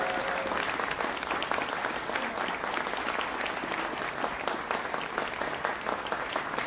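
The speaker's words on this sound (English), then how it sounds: "can we please give a round of applause to Alexander or AJ Barber" A large audience at a symphonic band and percussion ensemble concert applauds steadily and loudly, with dense, sustained clapping and no talk over it.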